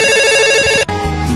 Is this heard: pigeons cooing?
no